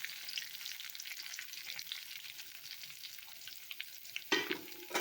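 Cumin tempering sizzling in hot oil, a fairly quiet, crackling sizzle that runs steadily, with a sudden louder burst near the end.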